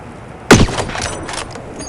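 A single sniper rifle shot in the Hitman: Sniper video game cracks loudly and sharply, followed by a brief rumbling tail and faint game sounds, with no talking.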